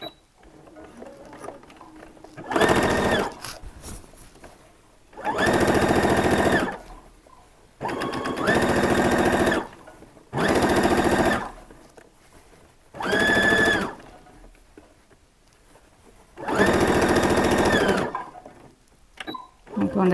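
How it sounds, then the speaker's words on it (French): A sewing machine stitches a fabric seam in six short, loud bursts of fast rhythmic whirring, separated by pauses where someone talks. "Je couds à 1 cm. Je n'oublie pas mon point d'arrêt."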